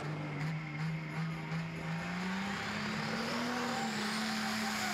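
A loud tractor pulling engine, a McCormick at a tractor pulling competition, drones steadily, its pitch slowly rising under broad roaring noise, like a heavy motor straining hard at close range.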